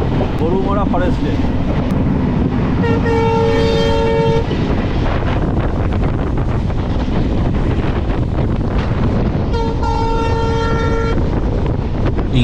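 The Dooars Vistadome tourist train rolls through tea gardens with a steady roar and rushing wind, and its horn sounds twice in long blasts, once early and again near the end.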